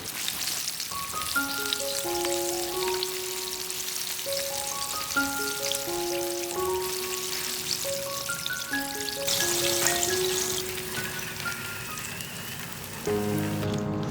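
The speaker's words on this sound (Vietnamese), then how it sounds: "Sau khoảng 15 phút chiên thì đùi gà cũng lên một màu vàng nâu rất là đẹp." Chicken thighs in a crisp KFC-style flaky coating deep frying in hot oil, a steady broadband sizzle running the whole time beneath louder melodic background music.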